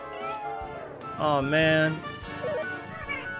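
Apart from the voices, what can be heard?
saber cub monsters meowing in Dragon Quest XI video game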